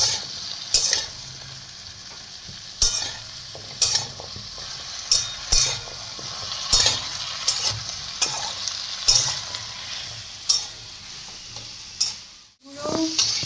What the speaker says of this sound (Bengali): এটা আবার একটুখানি ভাজবে।